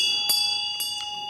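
A bell rung by hand during a Buddhist teaching, producing sustained ringing tones with three struck chimes close together, loud and clear with no talk.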